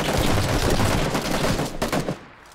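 Sustained rapid gunfire from a burst M16 in PUBG: Battlegrounds, loud and dense for about two seconds before it cuts off into a few scattered shots.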